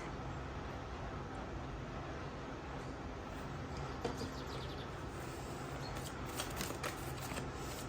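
Tarot cards are shuffled by hand in quick, soft riffling flutters and light slaps, close and fairly quiet, with faint background noise.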